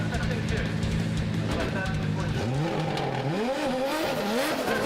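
A Toyota GR86 drift car on a Formula Drift Japan qualifying run at Ebisu, engine revving up and down in sweeping pitches with tire squeal, loud and close, while a commentator talks over it.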